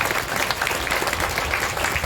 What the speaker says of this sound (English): Let's give the sheep and give Meg a really big round of applause.